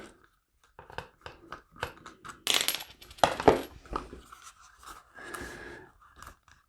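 Phillips screwdriver backing screws out of a Concealment Express kydex OWB holster, a run of small sharp clicks, ticks and rattles at close range, with a few louder scraping bursts midway and no talk.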